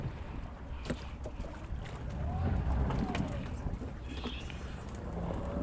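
A deep-sea fishing boat's engine rumbles low and steady as it reverses out at sea, with wind buffeting the microphone, water sloshing, scattered knocks and faint voices in the background.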